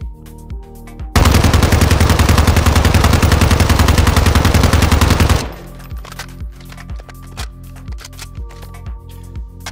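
A TYLR8 firing with a Tempus attachment in Warzone 2 DMZ unleashes a loud, continuous burst of automatic fire lasting about four seconds, followed by a series of separate, quieter rhythmic shots.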